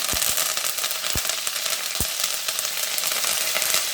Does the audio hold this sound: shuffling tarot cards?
no